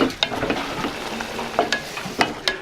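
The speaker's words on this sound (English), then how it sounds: "she first stir-fried some onions and carrots and caramelized them in some oil" Onions and carrots sizzle and crackle steadily in hot oil as they are stir-fried and caramelized, with spatula scrapes and tosses coming through at intervals.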